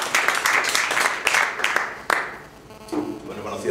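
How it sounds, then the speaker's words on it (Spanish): A small audience at an event in Zaragoza claps for a newcomer, a brief scattered round of applause that thins out quickly as talk resumes. "Un aplauso para él, por favor."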